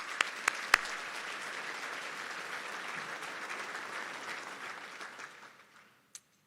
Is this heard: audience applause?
yes